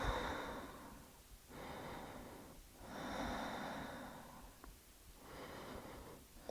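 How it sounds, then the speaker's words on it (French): Slow, deep breaths during a seated yoga twist against a wall, several long airy inhales and exhales in a steady rhythm, close and quiet with no talking. "Et je reste 5 longues respirations"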